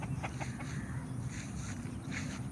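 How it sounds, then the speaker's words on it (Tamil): Roosters and hens on a country chicken farm in Cyberjaya, Malaysia, cluck and call at a distance over a steady low outdoor rumble, several short calls scattered across the moment. "இதான் நம்ம வீட்டில் இருக்கிற மாதிரி சேவல்."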